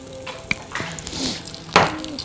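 Oil sizzles in a pan with garlic as mushrooms and cauliflower are cooked, a steady crackle with a louder burst near the end and faint stirring clinks.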